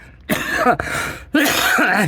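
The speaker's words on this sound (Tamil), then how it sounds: "இருமல் வருதுங்க பேசி உங்ககிட்ட." Two loud, rough coughing bursts right up close, each drawn out and harsh, separated by a short gap.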